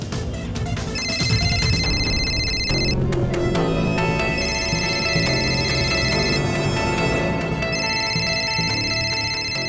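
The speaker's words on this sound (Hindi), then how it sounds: "बॉस का फोन है।" A phone ringing with a repeating electronic ringtone in a tense crime-drama scene, loud and continuous, mixed over dramatic background music with no talking.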